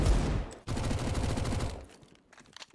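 A dense burst of automatic gunfire rattles in a Counter-Strike match at a PGL Major esports event, the CZ pistol among the shots, loud and continuous for about two seconds before thinning into a few scattered shots.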